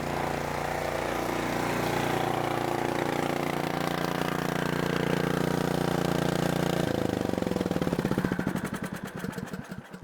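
A small engine idles steadily up close on a cabin work machine, then is switched off around the eighth second, the running sound breaking into sputters before fading to quiet.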